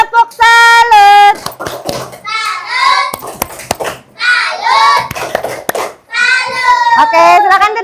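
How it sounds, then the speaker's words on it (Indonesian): A classroom of schoolchildren performs a rhythmic clapping cheer, sharp hand claps in quick patterned bursts mixed with children chanting and calling out together, close and lively. "Beri tepuk salut untuk kelompok burger."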